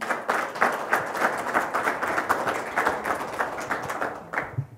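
A room of attendees at the Iowa Swine Day 2022 session claps for the presenter, Dr. Gabler, with dense, steady applause that sustains for several seconds before cutting off abruptly near the end.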